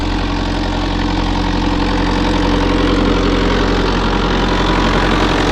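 A 12.5 hp farm motor runs on a 585 generator turning at about 1475 rpm, a loud, steady, droning engine hum with strong low harmonics and no break, no voices over it.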